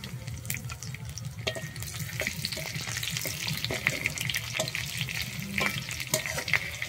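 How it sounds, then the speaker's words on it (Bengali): Bay leaves, panch phoron and slit green chillies fry in hot oil with a steady, close sizzle and crackle, broken by occasional spoon taps and stirring clicks, with no talking. "আমি দিয়ে দিচ্ছি 2টো তেজপাতা, আর দিচ্ছি আমি 5 ফোড়ন 1 চামচ, আর দিচ্ছি আমি 2টো চেরা কাঁচা লঙ্কা"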